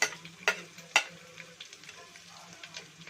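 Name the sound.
ginger added to hot oil, sizzling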